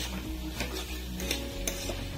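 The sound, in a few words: stirring chopped tomatoes in a cooking pan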